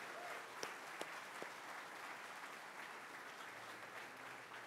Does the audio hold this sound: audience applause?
yes